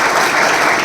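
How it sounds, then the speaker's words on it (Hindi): Audience at a business function breaking into loud, dense applause, a continuous wash of clapping hands with no pauses. "एक बार जोरदार ताली हो जाए"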